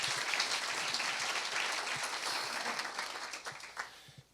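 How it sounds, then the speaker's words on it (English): An audience claps in a sustained round of applause at a talk, a dense wash of many hands that holds steady and then tapers off toward the end. "Let's give her a round of applause."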